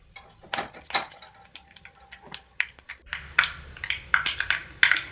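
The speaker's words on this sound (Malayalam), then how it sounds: "കടുക് പൊട്ടി വരട്ടെ." Mustard seeds spluttering in hot oil with fenugreek while cooking Kerala-style pumpkin pachadi, a scattered run of sharp pops and crackles that grows busier toward the end.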